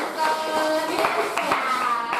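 A classroom of students clapping for a student group, scattered close hand claps with a few sharp individual hits over chatter and children's voices.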